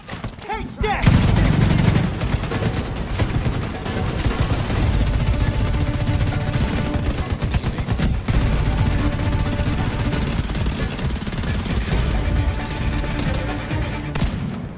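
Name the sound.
gunfire in video game The Division 2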